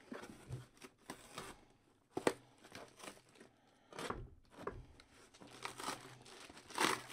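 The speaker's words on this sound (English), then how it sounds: "Just gonna cut the box down here." A blade cutting open a cardboard box of trading cards, with close crinkling, tearing and crunching bursts spread irregularly through a quiet room.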